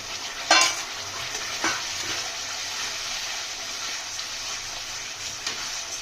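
Ground turmeric, chilli, cumin and coriander masala fries in oil, a steady hissing sizzle with a couple of spatula scrapes, close and moderately loud, no voices.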